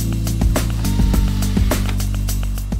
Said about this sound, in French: Visser les verrous sur l'axe.